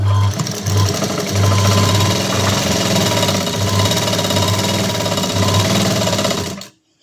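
Sewing machine stitching a blouse runs loud and steady for nearly seven seconds, with a rapid, even mechanical whir and pulsing low rhythm that stops abruptly at the end, with no voices.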